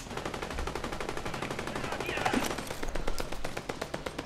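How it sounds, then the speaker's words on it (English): Automatic gunfire from the video game Fortnite rattles off in a rapid, continuous burst of evenly spaced shots at moderate volume, with no pause across the stretch. "I'm gonna see if I can shoot him."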